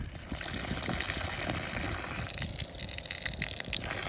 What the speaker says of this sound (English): Flushing out the roof pump.